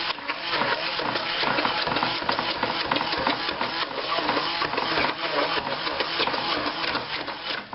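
Homestyle potatoes being mashed, a dense, continuous run of rapid thumping and squishing at close range, steady throughout.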